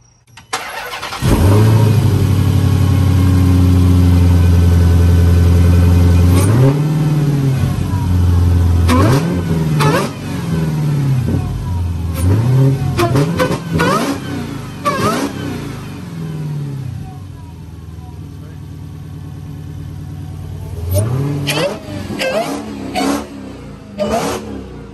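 A 2019 Dodge Charger Hellcat fitted with a JLT cold air intake starts and revs repeatedly, loud rising and falling bursts with a whining edge, separated by rough idle, up close.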